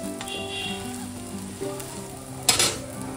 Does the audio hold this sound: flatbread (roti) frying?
yes